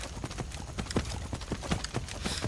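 A horse in the video game Skyrim clip-clops steadily uphill, with a quick, even rhythm of hoofbeats throughout at moderate loudness.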